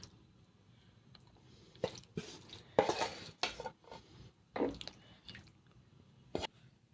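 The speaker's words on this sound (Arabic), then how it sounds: "ابتدي بقى احط اللحمة على الصاج" Minced meat is spread across a baking tray for macaroni béchamel, with scattered scrapes, soft squishes and metallic clinks from a utensil against the tray, coming in irregular bursts over a quiet background.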